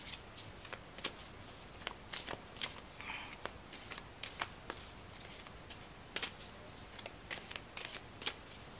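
Tarot cards shuffled close by in a rapid run of crisp riffles and snaps, with short irregular bursts repeating steadily and no voices.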